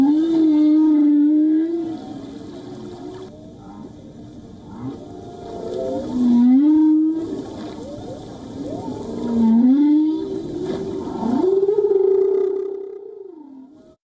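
Whale vocalizations in a noisy ocean: long, loud moaning calls that rise and fall in pitch, repeating in several drawn-out phrases with brief quieter gaps between them.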